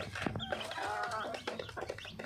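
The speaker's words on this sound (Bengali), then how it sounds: "তো এই হচ্ছে আমার দেশি মুরগি" Native village chickens cluck nearby in a soft, busy run of short calls, with one hen's drawn-out vocalization in the middle.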